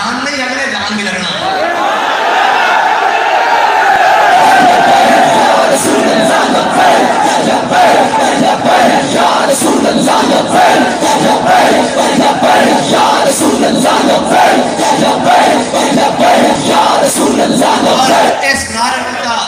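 A large crowd at an Urs religious gathering at the Data Sahib shrine chants a slogan in loud unison, a dense, roaring wall of voices that continues steadily for nearly twenty seconds.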